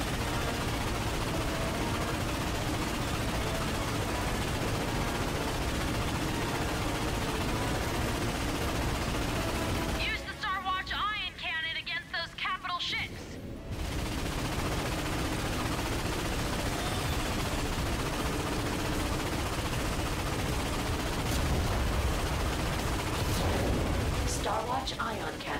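A constant roar of blasts and rapid gunfire fills a Ratchet & Clank battle against warships, with a brief lull of softer ringing sounds midway, and voices talking over the action.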